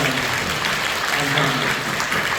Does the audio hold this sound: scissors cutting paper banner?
no